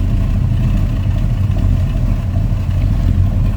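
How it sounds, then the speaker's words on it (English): Steady, smooth idle from a 354 Chrysler Hemi in a 1953 Ford F100 truck with mild exhaust, a constant low rumble heard close and loud with no talk. "Hemi runs smooth and it sounds good."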